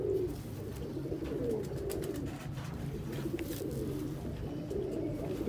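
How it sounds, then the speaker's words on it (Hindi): Pigeons coo steadily in low, throaty murmurs, several birds overlapping close by, with faint chirps and shuffling in the background. "कबूतर जी"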